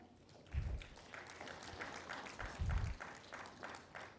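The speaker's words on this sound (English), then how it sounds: "Let's put our hands together for Etienne de Souza" Applause at a business leaders' forum after a speaker is introduced, a steady crowd clapping with a couple of louder low thumps mixed in.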